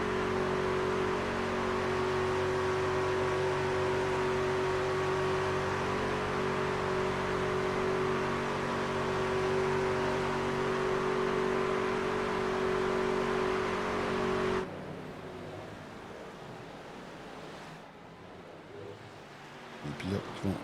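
Race cars circling the sim-racing Daytona track roar past in a steady, loud engine drone that drops away abruptly near the end, with a commentator talking over it.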